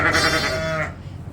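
Sheep bleating in a barn where lambs are penned, a close, loud, wavering bleat lasting nearly a second before falling quiet, with other animal sounds faintly behind.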